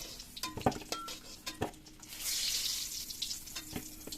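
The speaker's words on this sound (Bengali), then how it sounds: "আলু প্রায় ভাজা শেষ এবার আমি নামিয়ে নেবো খুব ভালো বেশ লাল লাল করে ভাজা হয়েছে" Potatoes fry in oil in a pan with a steady hissing sizzle, broken by sharp clinks and scrapes of a utensil against the pan, close up with no talking.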